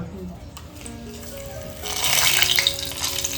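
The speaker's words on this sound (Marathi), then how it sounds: "चला आता फोडणी करून घेऊया" Hot oil with whole spices and cashews breaks into a loud, crackling sizzle partway through and keeps spitting steadily to the end, with a faint voice in the background earlier.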